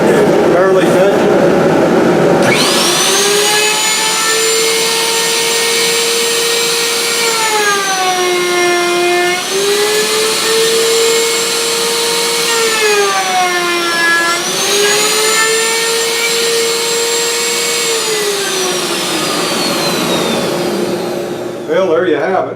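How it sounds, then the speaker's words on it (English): A radial arm router cuts a quarter-inch groove, its loud motor howl holding a strong whining pitch that dips and recovers twice as the bit bites into the wood, lasting about twenty seconds before trailing off. "it's really easy to drop down while you're cutting your groove"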